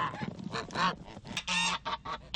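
Farm geese, males excited around a brooding female, honk loudly and repeatedly in a rapid series of harsh, nasal calls close by, with brief gaps between bursts.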